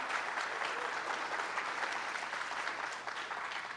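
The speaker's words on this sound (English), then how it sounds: "Let's put a round of applause for them." An audience at a high school soapbox speech final gives a steady, dense round of applause, fairly even in loudness throughout with no voices over it.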